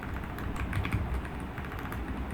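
Keys tapped on a computer keyboard at a steady, fairly quick pace, close and moderately quiet, with a faint low hum beneath and no voices.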